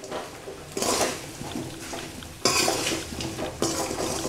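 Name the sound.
stirring fried baby potatoes with spice powder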